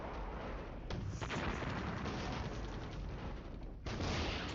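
Mortar and artillery fire in a modern US Army tank campaign game, a dense continuous barrage of booms and blasts that rumbles loudly throughout, with a brief dip just before the end.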